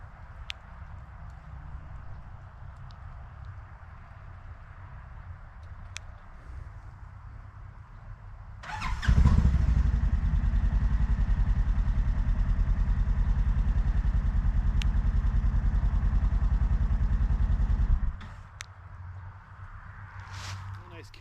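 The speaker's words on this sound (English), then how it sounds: "just to go ahead and fire the vehicle up remotely" A utility vehicle engine fires up by remote start kit at about nine seconds, settling into a loud, steady low idle that runs for roughly nine seconds before cutting off, with quieter background shop noise before and after.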